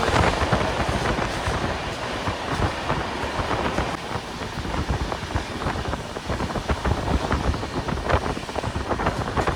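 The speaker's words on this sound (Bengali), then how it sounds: "ট্রেন এবার টানেলে ঢুকবে" A passenger train rumbles and clatters along the Konkan railway in monsoon season, approaching a tunnel; a dense, steady roar of wheels and rushing wind fills the whole stretch at close range.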